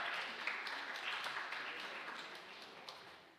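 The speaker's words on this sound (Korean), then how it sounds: "박수 부탁드립니다" Faint, steady applause from a church congregation during an awards presentation, soft and a little distant, gently fading toward the end.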